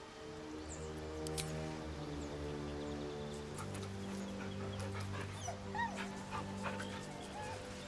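A dog in Baldur's Gate 3 whimpers and yips in soft, high, repeated whines over a continuous hum of game ambience and music.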